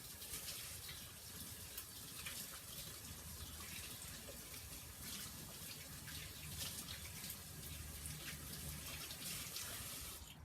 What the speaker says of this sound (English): I just have to rinse my hands